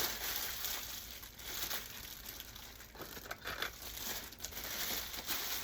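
A pack of plastic zip ties is handled close up, with continuous crinkling and crumpling of the packaging, alone without talk.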